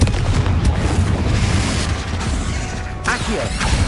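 Spell blasts and magical combat explosions in the video game Hogwarts Legacy, a dense, loud rumble of booms and crashes running throughout with a sharper burst near the end.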